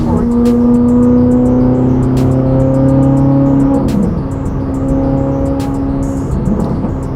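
A Corvette C8 Z06 engine holds a loud, steady high-pitched drone, then dips and rises again, with short sharp clicks over the hum.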